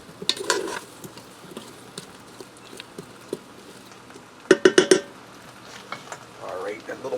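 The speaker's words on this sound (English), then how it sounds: "Give them that stir that I said I was going to do" Potatoes coated in parmesan being stirred in a Ninja Foodi pot, with soft scraping and a short cluster of clinking utensil-on-pot knocks midway, faint cooking sizzle in the background.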